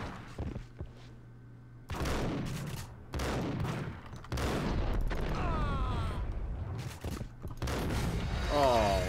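Gunfire from the Max Payne video game: heavy shots and bursts arrive in clustered volleys, loud and close, separated by short pauses and mixed with booming impacts and mechanical clatter.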